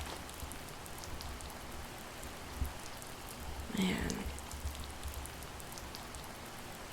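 Steady rain patters outdoors on a dark, gloomy day, a soft continuous hiss with scattered drops, while a man briefly mutters a word partway through.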